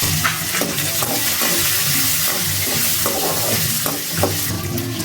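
Peeled shallots, garlic and a little tamarind sauté in a pan for a betel leaf chutney, with steady sizzling and repeated scraping stir strokes of a spoon against the pan.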